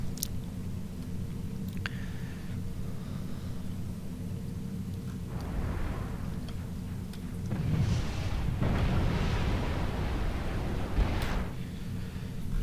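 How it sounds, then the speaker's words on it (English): Bombing runs in a real-time strategy game, with rumbling explosions swelling out of a dense, steady low roar of battle noise and peaking in a heavier burst near the end. "This bombing is insane right now"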